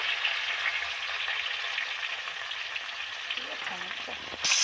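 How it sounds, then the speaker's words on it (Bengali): Eggplant slices coated in salt, turmeric and chili powder frying in a pan of hot oil, a steady close sizzle with light stirring movements and a brief utensil knock near the end. "বেগুনটা নুন হলুদ আর লঙ্কা গুঁড়ো মাখিয়ে নিয়েছি হ্যাঁ প্রথমে একটা দিক ভেজে নেব"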